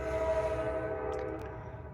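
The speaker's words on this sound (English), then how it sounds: "I hear a train." A passing train sounds a sustained, steady horn tone over a low rolling rumble, moderately faint and somewhat distant, with no talking.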